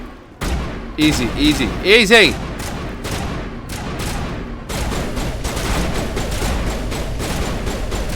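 Gunfire aimed at a Geth robot in the Mass Effect video game, a dense run of shots and impacts over roughly eight seconds with a brief spoken word near the start.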